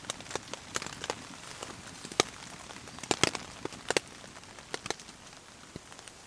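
Rain drips onto a hot tent at a camp: scattered, irregular raindrop taps and patters land close by over a soft steady hiss, with no voices.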